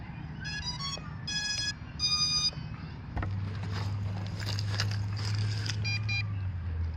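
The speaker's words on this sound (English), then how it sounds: "when you hear that beep, you're ready to calibrate it." Contixo F20 RC quadcopter drone giving a series of short electronic beeps after its battery is locked in, followed by a steady low hum and more beeps, close and fairly quiet, with no talking.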